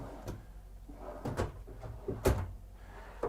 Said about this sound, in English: Now every drawer in this coach is going to be a soft closing